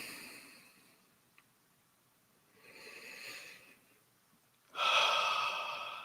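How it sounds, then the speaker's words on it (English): Slow, deep breaths are drawn in and released during a guided meditation practice, three soft airy swells close to the microphone, the last inhale loudest and longest, with quiet pauses between. "Take a deep breath."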